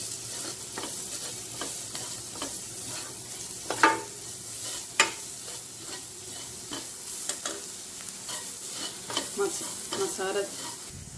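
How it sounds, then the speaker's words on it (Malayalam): Chicken masala spices with coriander powder being sautéed and stirred in a pan, giving a steady soft sizzle with scraping spoon strokes and a few sharper clinks, no talking. "ഇത് ചേർത്ത് നന്നായി വഴറ്റുക."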